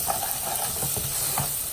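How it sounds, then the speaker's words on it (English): Garlic and red chili flakes sauté in hot oil in a pan, with a steady close sizzle and short stirring scrapes throughout. "I'm gonna add red chili flakes and fresh garlic. I'm gonna saute it really good."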